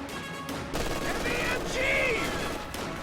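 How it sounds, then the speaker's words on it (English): MG42 machine gun fire in a strategy video game rattles continuously in the background of a battle, steady and mid-distance, with faint whistling tones overhead and no clear talk over it. "MG42 manages to suppress this squad"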